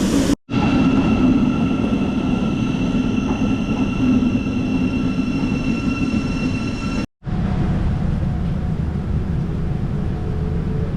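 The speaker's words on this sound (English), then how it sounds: "Waiting for the train. Should be here in like a few minutes." A train arriving at a station rumbles loudly and continuously, a heavy roar with whining tones, briefly cutting out twice.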